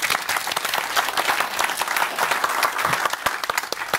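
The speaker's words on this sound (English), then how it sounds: "Please give a warm applause to Pia." An audience at a company talk breaks into loud, sustained applause, dense clapping filling the whole stretch without a break.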